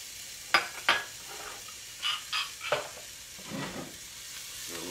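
Crushed garlic and onions sizzle in a pan for shrimp pomodoro, a soft steady hiss broken by a few louder scrapes and clinks as the pan is stirred, no voices.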